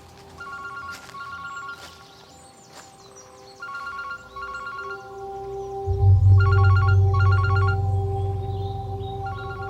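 Mobile phone ringing in repeated electronic tone bursts with short gaps between them, clear and close, joined partway through by a low steady hum that swells underneath.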